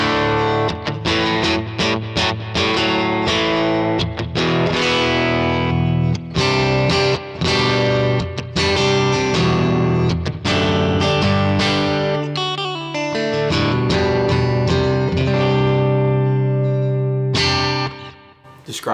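Electric guitar played through a Kemper profiling amp with a single dynamic-microphone tone, loud and continuous with distorted, effected chords and notes that ring out and briefly drop before resuming.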